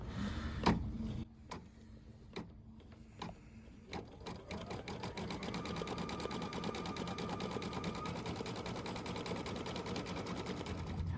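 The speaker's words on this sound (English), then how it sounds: "All right, now it's time for the satin stitch." Embroidery sewing machine working a satin stitch on a pet stocking: a few separate clicks and thumps, then a fast, steady mechanical stitching rhythm from about four seconds on, close and fairly quiet.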